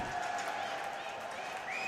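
After a Huskies college hockey game, the home crowd applauds and cheers, a steady wash of clapping and crowd noise in an arena, fairly faint and distant.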